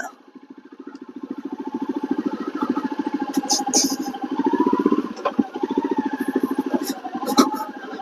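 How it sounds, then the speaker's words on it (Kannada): A Goan Classic 350 motorcycle is ridden, its engine giving a close, steady, pulsing thump with slight rises in revs and a few brief clicks and rattles over the top. "ನಾನೀಗ ಬಿಡ್ತಿದ್ದೇನೆ ಬೈಕ್"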